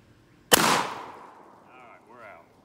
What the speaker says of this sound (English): Let's shoot another clay here.